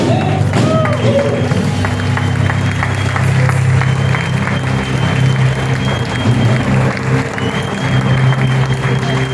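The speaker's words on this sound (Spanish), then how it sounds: "Le damos un aplauso." Church congregation applauding during a Spanish-language worship service, steady dense clapping with crowd noise and a low sustained musical drone underneath, loud and continuous throughout.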